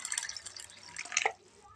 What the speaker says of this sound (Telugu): 3 సార్లు కడిగిన తర్వాత వీటిలో నీళ్లు పోసుకొని